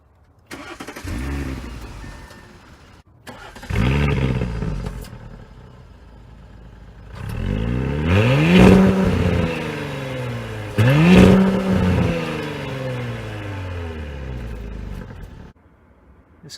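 An Audi SQ5 quattro luxury SUV engine cranks and starts, then revs up several times in strong surges before settling and cutting off, loud and close.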